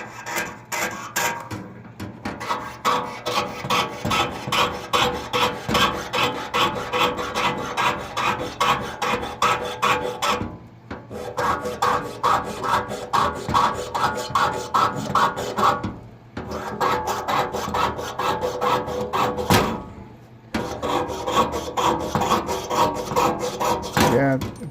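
Hand sawing through wood for small ring and fan pieces, with sawdust falling, produces loud, rhythmic rasping strokes in quick succession, broken by a few short pauses between bursts of cutting.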